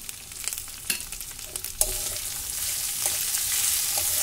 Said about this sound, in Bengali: টমেটোটা দিয়েও আমি আর একবার ভালো করে কষে নিলাম নাড়াচাড়া করে।